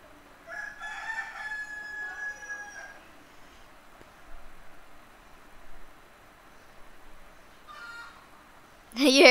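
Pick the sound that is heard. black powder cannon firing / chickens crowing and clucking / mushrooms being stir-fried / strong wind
chickens crowing and clucking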